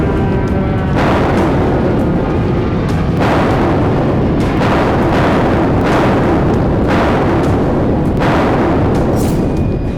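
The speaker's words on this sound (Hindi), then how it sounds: "एक ही मिनट के भीतर 10 से ज्यादा धमाके हो रहे थे" Israeli artillery explosions pound Gaza in a loud, continuous barrage, with heavy booms landing roughly every two seconds over a constant rumbling roar.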